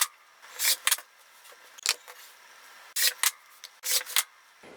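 Sharp cutting tool slicing through a layered fabric panel into 5.5-inch squares, heard as several separate crisp swipes with quiet gaps between them, close up and without speech.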